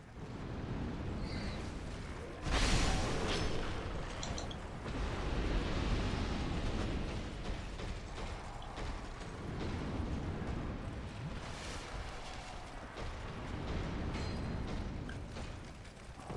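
Booming explosions in Dark Souls 2 Scholar of the First Sin, a sharp loud blast followed by sustained rumbling and crackling game noise throughout, with no talk.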